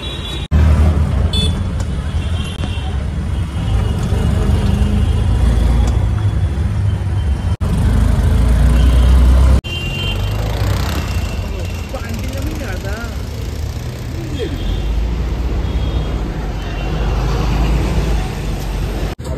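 Riding an auto rickshaw through city street traffic after leaving the metro, a loud constant engine rumble and road noise, with people talking over it.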